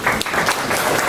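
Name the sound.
audience imitating a golf crowd's polite applause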